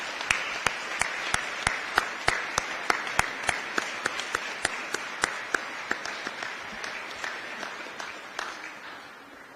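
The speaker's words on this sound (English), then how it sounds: "why don't we give them another round of applause?" A room full of people gives the Patriot group another round of applause at an Iowa Capitol event, sharp distinct claps ringing out fairly close and fading slightly toward the end.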